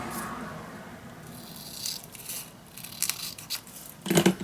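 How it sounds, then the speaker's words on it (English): Scissors cutting paper for a handmade secret storage book, producing faint scattered snips and rustles with a slightly louder crinkle and snap near the end, heard alone without speech. "So I'm gonna cut this out again."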